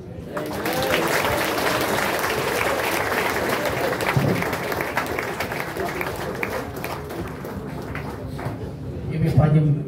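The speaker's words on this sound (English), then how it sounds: "What a big round of applause." Steady audience applause fills a church service, many hands clapping together in a sustained, dense wash that continues for about ten seconds before tapering slightly.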